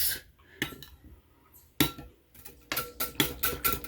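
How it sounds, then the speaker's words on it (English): Pumpkin pie dump cake ingredients being stirred in a bowl, with irregular clinks and scraping knocks of a utensil against the dish, sparse at first and then a quicker, denser run of strokes close by. "I'm going to give it a good mix"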